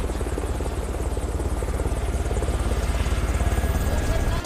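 A helicopter's rotor thumps in a steady rapid rhythm, loud and close, with a constant engine roar underneath, in a film scene of a family being evacuated.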